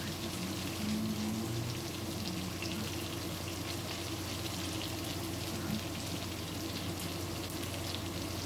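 Catfish nuggets fry in a pan with a steady, rain-like crackle of hot oil that holds at a moderate level throughout, with no voices.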